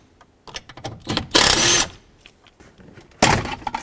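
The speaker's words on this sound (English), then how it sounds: "Now I need to take out these 2 8mm screws over here." Work to remove two 8mm screws on a 1997-2003 Ford F-150, heard as close, intermittent mechanical whirring bursts like a power driver, two longer loud runs separated by small clicks and handling noises.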